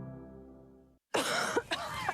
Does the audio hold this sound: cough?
yes